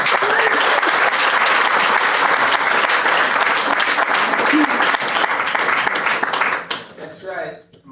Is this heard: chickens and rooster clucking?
no